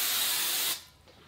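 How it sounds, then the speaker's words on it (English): Nonstick cooking spray spritzed into a large bowl, one short sharp hiss lasting under a second, close and alone, then quiet. "take a large bowl and spray it with nonstick spray."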